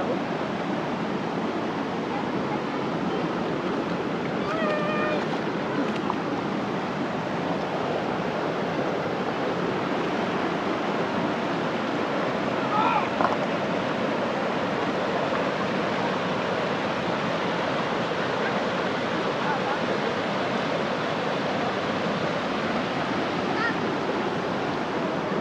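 Water rushes steadily at a spring resort lagoon in Tanay, Rizal, a continuous loud wash of flowing, splashing water, with faint voices and small sounds briefly surfacing over it.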